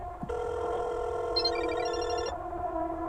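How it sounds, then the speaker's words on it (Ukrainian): A phone ringtone in the horror game Parasocial plays a steady electronic ring with a small tinkling melody over it, heard from a little distance against a low room hum and then cutting off. "Рінгтон Азуки."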